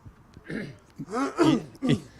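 A few harsh coughs and throat-clearing bursts from football players at training, spaced irregularly over two seconds, fairly close and moderately loud.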